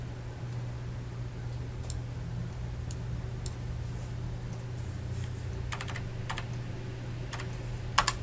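A computer keyboard typed on in short bursts of clicky keystrokes, close and fairly faint over a steady low hum, ending with a couple of sharper key presses.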